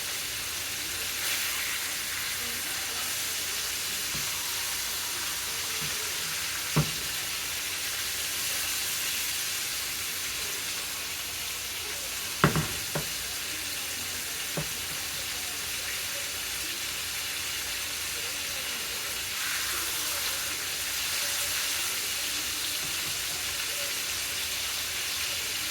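Steady broadband sizzling of pounded pork loin chops frying in a pan, a continuous hiss with a couple of sharp pops and clicks, no talking.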